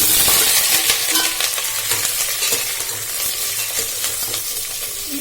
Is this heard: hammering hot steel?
no